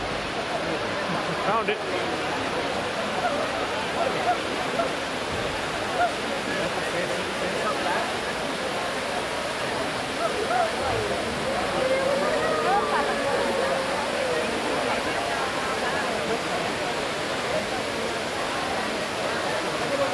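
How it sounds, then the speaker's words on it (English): Water from the Trevi Fountain in Rome rushes and splashes in a constant, full roar, with a brief voice speaking over it. "now we're going to go back to the Trevi Fountain"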